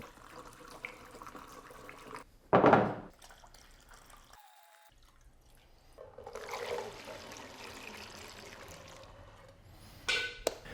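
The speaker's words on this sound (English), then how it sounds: "I'm gonna pour all the automatic transmission fluid in here, then fill the bottle back up." Automatic transmission fluid is poured into a bottle, giving a faint liquid trickle and splash after a sharp knock, with a low background hum throughout.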